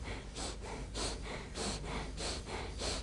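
Rhythmic qigong belly breathing during a guided exercise, with steady cycles of forceful breaths roughly every half second, close and clear with no talking.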